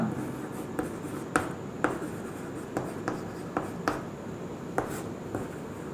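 A teacher writing on a board during a physics lesson on alternating and direct current: a faint, steady scratch of writing broken by soft sharp taps as strokes begin, with no talking.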